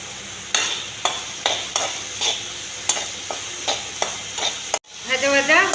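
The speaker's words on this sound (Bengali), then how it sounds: "এবার ভাজা ভাজা হবে।" Chopped onion and garlic fry with seeds and spices in a hot pan, a constant sizzle broken by about nine regular scraping stirs of a spatula, close up, ending in a sharp louder hiss.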